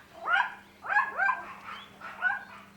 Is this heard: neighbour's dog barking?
yes